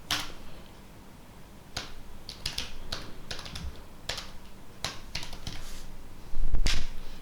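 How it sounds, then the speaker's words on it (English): Keys clack on a computer keyboard while a command is entered during an Arch Linux install, irregular clusters of crisp close taps with pauses between, ending in a louder burst, no talking. "to edit this, I'm gonna type nano"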